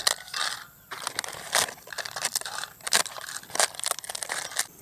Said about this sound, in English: So, put the breadcrumbs into the bowl.